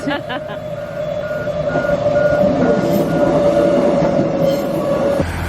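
A suburban train rumbles past with a steady high squeal of wheels on the rails, sustained for several seconds before cutting off abruptly.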